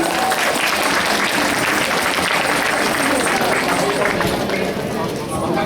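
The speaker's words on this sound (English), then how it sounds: "could you please give a warm applause for the Navratri Bhajan group?" Warm audience applause for a Navratri bhajan group at a Durga Mandir, a dense, steady wash of clapping from a sizeable crowd that holds loud throughout and eases slightly at the very end.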